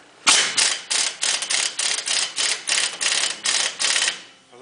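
A small impact wrench presses a new pivot bushing into the I-beam of a Ford F-250, hammering in a rapid, even series of about a dozen loud rattling bursts before stopping.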